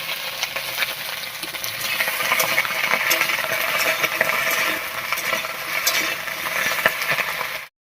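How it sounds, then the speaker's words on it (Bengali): Beans and cauliflower sizzle in mustard oil in a wok while being stirred, a close steady frying hiss dotted with scraping and light metallic clinks of the utensil, cutting off abruptly at the end. "শিম আর ফুলকপিটা একটু ভাজা ভাজা করে নেব"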